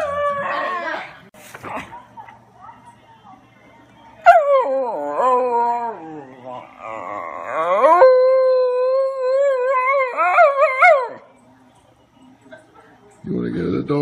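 Dogs howl on a dog-themed TV program, drawn-out wavering howls that rise and fall in pitch, with a whimpering yip at the start and another at the end, loud and near.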